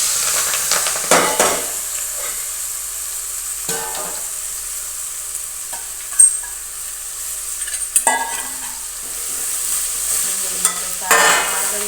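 Onion frying in oil with mustard and cumin seeds, a steady sizzle with intermittent louder bursts of stirring and spoon scrapes against the pan.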